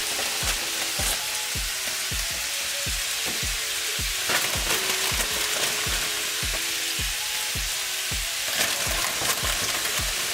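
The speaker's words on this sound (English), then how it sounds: "So now we got our steaks going." Steaks and spinach sizzle steadily in a cast iron skillet, a dense continuous crackle with regular light tapping or stirring clicks throughout, close and loud.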